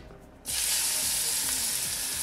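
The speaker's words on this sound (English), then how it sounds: "Next add the onions in." Onions dropped into hot olive oil for a whole grain mustard sauce, a sudden loud burst of sizzling that stays steady and bright after a quiet start, close and without talk.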